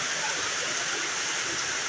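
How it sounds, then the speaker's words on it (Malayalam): Heavy rain pours down over Palayam market in Kozhikode, a steady, dense hiss of falling water with no breaks, close and continuous throughout, no voices. "9:20 തുടങ്ങിയ മഴ"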